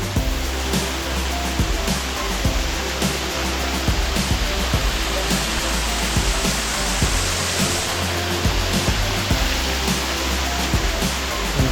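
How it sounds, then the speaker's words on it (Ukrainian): A powerful waterfall in the Carpathian mountains near Manyava Skete roars as a continuous, dense, loud rush of falling water, with brief faint thumps over it and no speech. "могутній водоспад."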